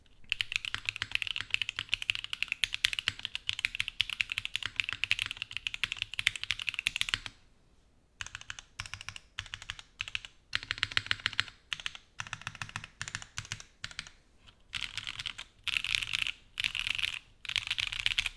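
Typing on a plateless HHKB Arc60 keyboard with Clackbits switches and GMK Godspeed keycaps, a dense, clacky run of close keystrokes with brief pauses in between, heard alone without any talk.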